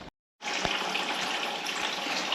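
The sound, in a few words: old orange Ford coolant draining from radiator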